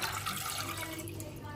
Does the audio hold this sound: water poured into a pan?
yes